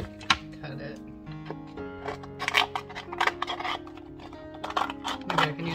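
Scissors cutting through laminated plastic make a run of crisp, close snips and crunches in irregular bursts, with background tones underneath.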